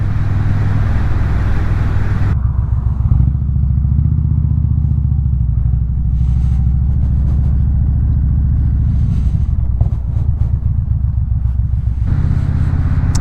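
A motorcycle engine rumbles steadily throughout on a slow ride with tight turns, loud and close with a continuous low drone, the revs easing and swelling slightly around the turns, with no talk.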